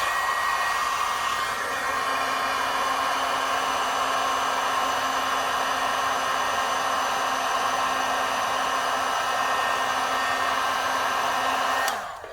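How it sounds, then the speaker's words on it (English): A heat tool blows steadily and loudly on a hot metal cap, a continuous whirring hiss with a fan whine that runs unbroken for about twelve seconds before cutting off abruptly at the end. "we're going to heat set this"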